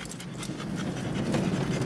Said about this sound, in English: if you hear my dog huffing and puffing